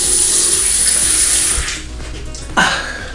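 Tap water runs steadily into a sink as a face is wetted before a shave, a full close splashing rush that thins out partway through, then a brief sharp splash near the end.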